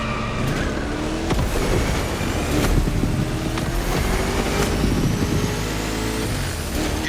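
A 1969 Mustang Boss 429 engine in the game The Crew Motorfest roars and revs steadily, a loud continuous rumble with occasional sharp clicks and bumps, no talking.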